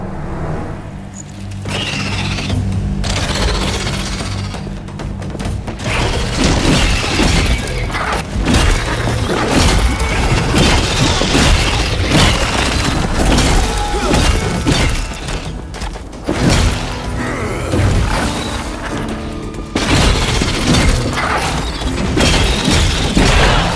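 Heavy combat in Atlas Fallen: repeated crashing, shattering impacts and booming thuds strike in a dense, loud, irregular barrage across the whole stretch, with brief lulls between flurries.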